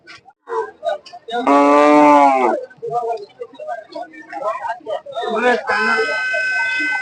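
Cattle and calves at a livestock market in K G Temple, Gubbi, with one long loud moo and another near the end, amid chatter from people bargaining.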